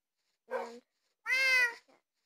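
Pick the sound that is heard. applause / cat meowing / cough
cat meowing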